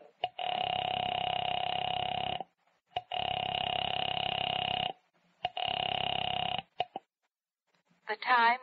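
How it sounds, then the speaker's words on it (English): A telephone tone after dialing: a steady electronic tone in three long bursts separated by short gaps, loud and close, followed by a brief warbling burst at the end. "went to the phone and dialed."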